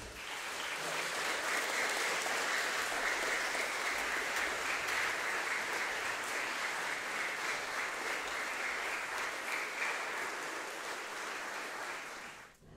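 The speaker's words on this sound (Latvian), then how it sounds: "Sagaidām ar aplausiem orķestrantus!" Sustained audience applause at a school wind orchestra's end-of-year concert, welcoming the musicians on stage; steady, dense clapping from a large crowd, loud and continuous for about twelve seconds before tapering off at the end.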